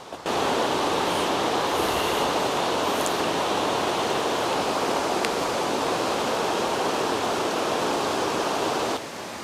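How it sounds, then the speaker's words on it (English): Spruce Brook Falls, a Connecticut trail waterfall, roars steadily and close at hand, a dense unbroken rush of falling water from start to finish with no voices over it. "we've made it to the first of many waterfalls along this amazing trail"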